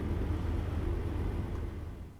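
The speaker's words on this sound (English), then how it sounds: "listen to that engine purr" Truck engine from American Truck Simulator idling in the cab, a steady low rumbling purr with a fine repeating pulse, moderately loud and unbroken throughout.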